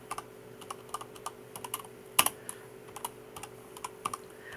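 Someone types a block-style letter on a computer keyboard: steady, fairly close key clicks in an uneven rhythm, with one sharper, louder keystroke partway through and a faint background hum.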